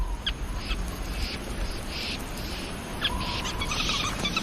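Weaver birds call at their nests in Africa, a dense, continuous chatter of high, bright chirps from many birds that swells and fades in repeated bursts against a steady background hiss.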